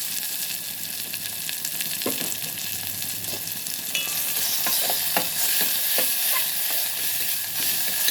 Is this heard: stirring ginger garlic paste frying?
yes